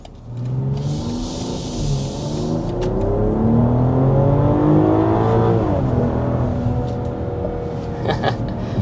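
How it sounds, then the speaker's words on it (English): A 2025 BMW X5 in sport mode accelerates hard, its engine note rising through the gears with brief dips at the shifts, heard from inside the cabin, loud and continuous with no talk. "I put it in sport mode so we can show you what the acceleration is like in that mode."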